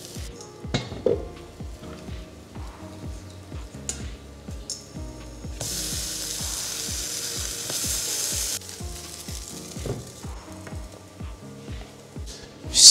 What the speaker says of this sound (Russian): Все, я допекаю последние оладушки.